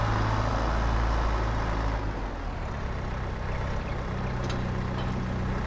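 A tractor engine in the farming game Farming Simulator 22 gives off a steady, loud, low rumble that settles to a slightly lower, calmer drone partway through, with no talking over it.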